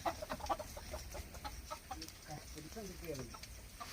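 Chickens cluck in a rural yard, a run of short repeated clucks and calls close by over a steady low background hum.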